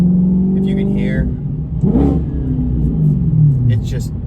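A 2009 Audi S5 engine revs up and back down quickly from inside the car, a deep rumbling mid-range roar rising and falling while a person talks over it.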